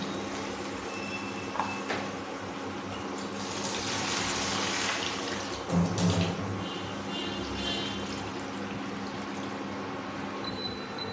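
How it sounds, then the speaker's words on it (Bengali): Water poured into a pan of Bengali-style mutton curry with potatoes, a rushing, hissing pour that swells in the middle over a steady kitchen hum. "এবার আমি কিন্তু জল দিয়ে দেবো এটার মধ্যে"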